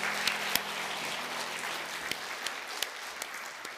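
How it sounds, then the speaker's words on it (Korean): A church congregation claps at a Sunday worship service, a brief, moderately loud burst of applause with a few sharp individual claps standing out. "우리 큰 박수 할 때 내려가시겠습니다."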